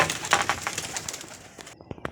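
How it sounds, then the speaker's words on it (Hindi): Lakha pigeon calling outdoors at a loft as young birds take flight, with a few close, soft coos and bird sounds over a busy background that thins to quiet, with short sharp sounds near the end. "ये लाखा कबूतर है जी।"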